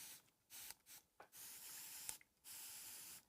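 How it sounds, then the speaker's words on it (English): A misting spray bottle full of water spritzes quilt fabric in several quick bursts of airy hiss, separated by short pauses, close and fairly quiet. "with the help of a misting spray bottle full of water, I will do just that by just simply spraying it"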